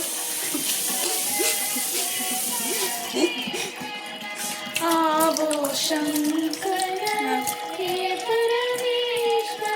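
Water pours and splashes in a home kitchen while rice is rinsed, a steady running-water hiss under voices that talk over it for most of the time.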